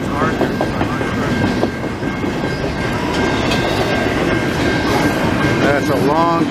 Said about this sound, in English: That's a long train, man.